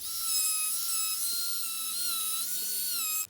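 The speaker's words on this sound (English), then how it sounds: "I prefer to sand each time I add a layer." A small electric sanding tool smooths stacked layers of leather with a continuous high-pitched whine that holds steady for about three seconds before cutting off.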